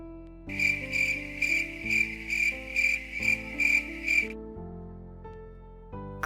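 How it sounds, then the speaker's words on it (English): Crickets chirp in regular pulsed bursts, about eight clear trills in a row, over a sustained backdrop of low musical tones, then the chirping stops while the tones continue. "Crickets."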